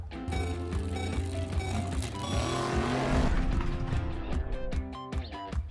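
A toy car zooms along past farm fields, a busy whirring vehicle sound with rising, swelling passes over a cluttered, lively background.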